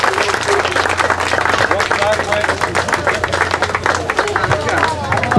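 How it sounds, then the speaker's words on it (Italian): Audience clapping at the award ceremony of a slalom race in Gambarie, loud and sustained for the full stretch, with crowd chatter mixed underneath. "Un applauso a tutti"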